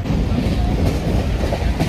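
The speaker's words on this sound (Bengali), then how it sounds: "ট্রেন কিন্তু 127, 126 বেশ ভালোই টানছে।" A passenger train runs at speed on the Kolkata to Parasnath route, a loud, steady rumble heard from onboard with faint rhythmic clickety-clack of wheels over rail joints.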